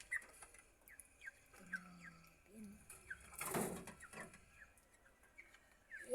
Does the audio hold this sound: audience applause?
no